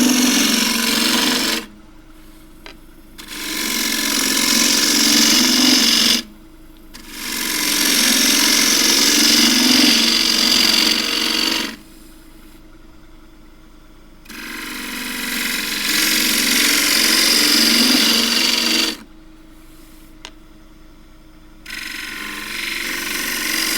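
A wood lathe turns quilted tiger myrtle while a tool cuts it, producing four long bursts of harsh scraping and shaving noise with short quiet gaps between them.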